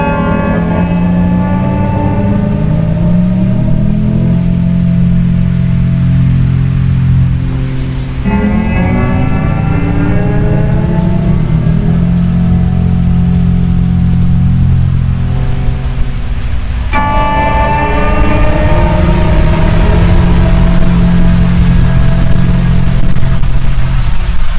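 Electric guitar with a whammy bar, played for the ending of a song: loud, sustained chords that swell and bend in pitch, restarting in three long waves with no talking.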